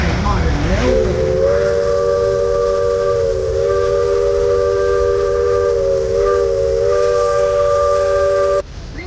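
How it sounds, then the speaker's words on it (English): A steam train whistle gives one long, loud, steady hissing blast lasting about eight seconds, heard close up and alone, then cuts off sharply. "They'd blow this particular signal to get everyone out of the way."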